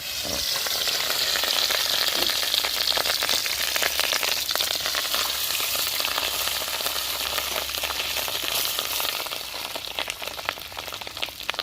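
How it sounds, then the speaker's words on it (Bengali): Rohu fish roe frying in hot oil, a dense, steady crackling sizzle close up that fades slightly toward the end, with no talking. "তেল গরম হয়ে গেছে ডিমগুলো দিয়ে দিচ্ছি"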